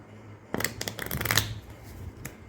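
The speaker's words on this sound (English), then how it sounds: "Then you can shuffle the cards." Playing cards are shuffled overhand in a quick run of soft, papery riffling slaps up close, then fade to quiet handling, with no talking.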